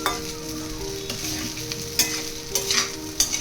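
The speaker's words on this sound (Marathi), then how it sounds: "बटाटा आपल्याला चांगला भाजून घ्यायचा आहे तेलामध्ये" Potatoes frying in oil for sabudana khichdi, a constant close sizzle with sharp spatula clicks and scrapes against the pan toward the end, no voices.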